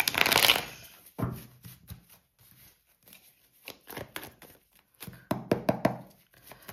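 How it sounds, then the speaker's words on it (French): Oracle cards being cut and shuffled by hand, a burst of riffling at the start followed by irregular soft slaps, taps and card shuffles, close and clear with no talk. "Je coupe et je mélange."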